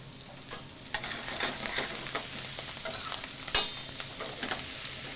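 Celery sizzling and frying in a hot pan, being stirred with scattered scrapes and clicks over a steady crackle, heard close with no talking.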